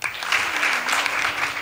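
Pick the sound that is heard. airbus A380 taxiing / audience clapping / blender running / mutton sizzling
audience clapping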